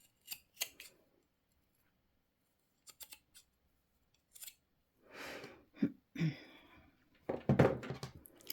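Scissors snip through clothing fabric being cut up for upcycling into festival wear, a few sparse close clicks early on, then louder rustling cuts and a dense burst near the end, with quiet gaps between.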